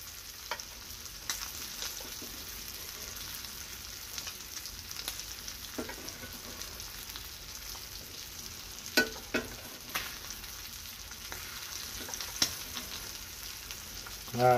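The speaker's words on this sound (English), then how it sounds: "Ah, the sound of sizzling steak." Steak sizzling and frying in a pan for a Cajun surf and turf dish, a steady crackling hiss with occasional sharper pops, heard alone at moderate level throughout.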